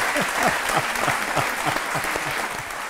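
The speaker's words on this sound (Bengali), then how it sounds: "হাততালি দিন সবাই।" Studio audience at a Bengali talk-show courtroom set bursting into dense, steady applause, many hands clapping together at full strength for about three seconds with no talk over it.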